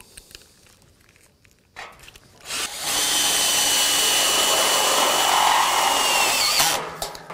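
A power drill drives a screw into a metal joist profile to fix a reinforcement on a steel-framed slab terrace, a few quiet clicks followed by several seconds of loud, steady whirring before it stops.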